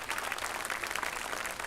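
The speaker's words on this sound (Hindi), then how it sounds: "जोरदार तालियों से आप डॉक्टर रानी बंग जी का अभिनंदन करें।" Dense, continuous applause from an audience at a college awards ceremony, a steady even roar of many hands clapping at once, somewhat distant and without pauses.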